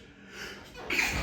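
A single short sneeze bursts out indoors during a casual college football conversation, close to the microphone and moderately loud.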